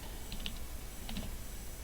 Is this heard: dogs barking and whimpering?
no